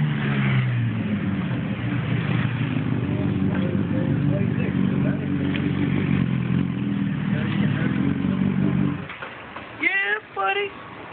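A motorcycle idles and runs steadily for about nine seconds, close and loud, then cuts off as a voice starts talking. No distinct chain pop stands out.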